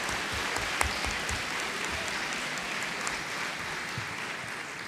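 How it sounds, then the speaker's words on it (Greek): Audience applause for volunteers at a conference, moderate steady clapping from a room of listeners, somewhat distant, with a few sharper claps standing out. "Ένα χειροκρότημα και όλους αυτούς που είναι από πίσω και μας βοηθάνε"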